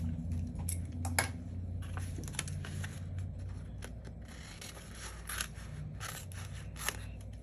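Scissors snip close by in a scattered series of crisp cuts through paper strips, with faint rustling between them in an otherwise quiet room.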